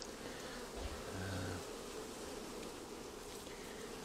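Faint, continuous buzzing of bees around a hive, with a brief louder hum as one passes close; no talking.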